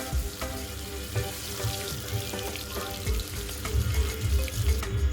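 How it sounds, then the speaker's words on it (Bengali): Fish frying in hot oil in a wok, a steady broadband sizzle with crackling spits and pops throughout, close and continuous with no talk. "এই যে দেখো মাছ ভাজা বসিয়ে দিয়েছি"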